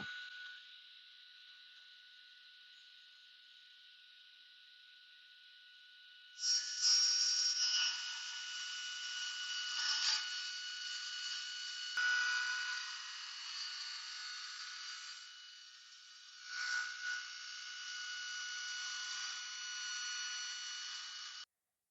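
A saw fitted with a thick-tooth ripping blade cuts slowly through wood. A thin, steady whine jumps louder as the cut begins and stays strained, wavering as the load shifts, with no talking.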